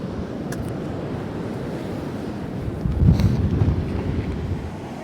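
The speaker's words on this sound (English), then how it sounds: "this wind is horrible. Yeah, it's windy." Strong wind blows outdoors and buffets the microphone with a steady, loud, rough rumble that grows stronger in a gust near the end.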